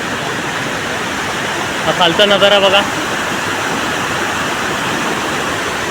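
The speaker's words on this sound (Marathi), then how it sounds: "धरणाच्या मध्यभागापर्यंतच पाण्याचा फ्लो आहे पायाला जास्त." Water pouring over a dam beside a waterfall, a loud, steady roar of rushing water that fills the scene throughout, with someone briefly speaking over it and a short tonal burst in the middle.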